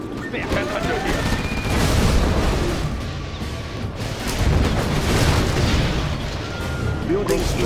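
A nuclear missile detonates in the C&C Zero Hour strategy game, rolling loud booms and layered explosive rumble swelling in waves across the whole stretch, with scattered crackling bursts.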